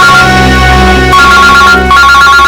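Phone ringtone playing loudly and alone, a steady electronic melody that holds for a couple of seconds with a brief change partway through.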